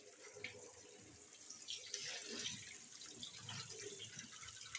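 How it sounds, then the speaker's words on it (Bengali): Cut taro is washed in water, heard as a faint, continuous sloshing and splashing with light drips, as if the pieces are shaken in a bowl or under a running tap. "দিয়ে ঝাঁকিয়ে ধুয়ে নিতে হবে জল দিয়ে কচুটা"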